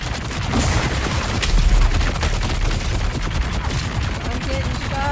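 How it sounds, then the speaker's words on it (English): Sustained video-game gunfire aimed at the player in a desert sands survival game: dense, continuous volleys of shots crackling throughout, loud and close, with a few heavier booms. "I'm getting shot at"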